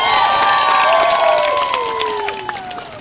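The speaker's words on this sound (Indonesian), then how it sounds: "Kita memberikan aplaus." Audience applause and cheering at a prize-giving ceremony for a 2023 Pentecost football and volleyball tournament in Waewua, a loud, sustained crowd roar with shouts that fades slightly toward the end, with high whistle-like tones running through it.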